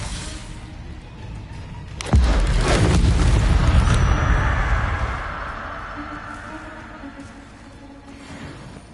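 A Confringo blasting spell in Hogwarts Legacy bursts with a sudden heavy boom and whoosh, then a long rumbling roar that slowly fades over several seconds.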